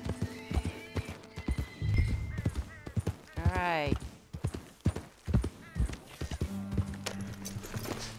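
Horse hooves clip-clopping with a loud whinny midway in the video game Red Dead Redemption 2, close and rhythmic under someone talking.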